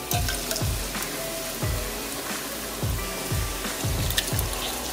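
Canned tomatoes tipped into a pan already holding tomato paste for spicy rigatoni: a steady wet sizzle and splash, broken by repeated low, heavy glugging thuds as the tomatoes land and settle.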